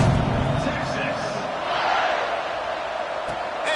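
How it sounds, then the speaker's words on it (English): Stadium crowd roaring steadily during a football kickoff in a video game, a dense continuous wash of cheering that holds at a constant level throughout. "Kickoff unit is out there again, and this crowd is feeling themselves after that last drive"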